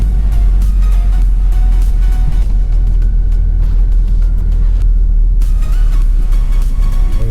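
An approaching car on a snowy road, heard from inside a lowered front-wheel-drive car driving in snow: a steady loud engine rumble fills the whole stretch, with a faint swell as the other vehicle nears.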